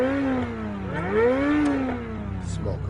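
A modified Lamborghini engine revs up and down, its strong harmonic growl swooping in pitch as the throttle opens and eases off, loud and close, with a sharp burst near the end.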